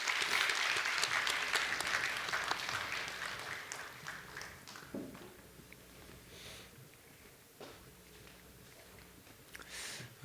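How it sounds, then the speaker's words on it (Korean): Applause from a congregation at a Friday prayer meeting in a church, a burst of clapping that fades over several seconds, followed by scattered quieter claps. "박수하겠습니다."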